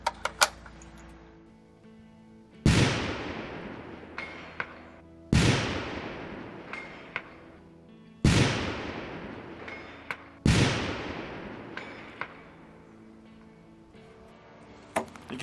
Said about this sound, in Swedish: är vi på 300 meter här så kör vi 4 skott med Norma här